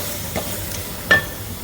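Fresh deshi magur catfish goes into spices frying in a pan, giving a soft background sizzle with a couple of sharp stirring scrapes and clinks, close and fairly quiet.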